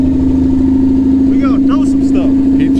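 A 1949 White tractor engine runs steadily at idle, a constant low hum throughout, with people talking over it.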